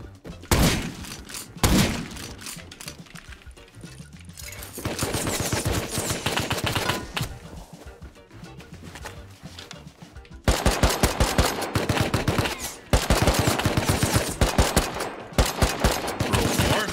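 Automatic and rapid gunfire in the survival game Rust, dense bursts of loud shots crackling in long runs with brief pauses, growing heavier and more sustained in the second half.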